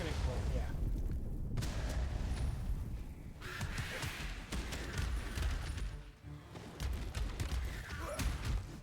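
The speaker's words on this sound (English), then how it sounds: "Oh, that's gonna explode, yeah." A chaotic burst of explosions and combat noise from the beat-'em-up video game Absolum, with dense booming impacts and crackling blasts layered under speech.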